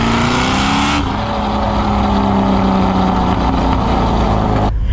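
Engine of a cammed Chevrolet C6 Corvette Grand Sport, loud and close, with a steady throaty drone and shifting pitch as the revs change, and a sharper burst at the start and the end.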